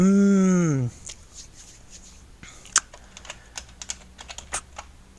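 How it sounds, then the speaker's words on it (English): Typing on a computer keyboard during a cave colony-building game session, with irregular clusters of quick key clicks following a brief spoken sound, fairly close and moderately loud. "I'm typing"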